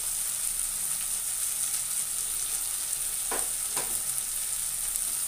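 Spice masala with turmeric powder frying in a pan, a steady hissing sizzle throughout with two brief stirring scrapes near the end.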